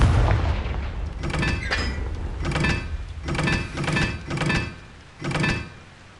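A magical blasting spell in a wizarding-school action game fires in a series of about six sharp explosive bursts at roughly one-second intervals, each with a short booming decay, close and loud without speech.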